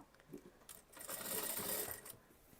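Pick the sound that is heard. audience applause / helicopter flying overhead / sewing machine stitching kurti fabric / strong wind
sewing machine stitching kurti fabric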